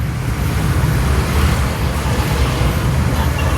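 Heavy road traffic on the stretch from Tagoloan to Cugman in Cagayan de Oro, a dense, constant roar of engines and tyres heard up close, with no voices.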